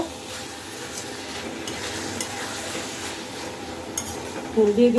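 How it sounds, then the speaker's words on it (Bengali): Potatoes are stirred into a sizzling pan of dried loitta (Bombay duck) fish bhuna. A spatula scrapes steadily over a constant close fry, ending in a louder clank of utensil on pan. "আলুটা দিয়ে আবার ভালো করে মিক্সড করে ঢাকনা দিয়ে দিব"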